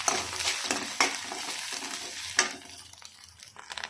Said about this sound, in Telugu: కొంచెం పసుపు, ఒకసారి కలుపుకోవాలి.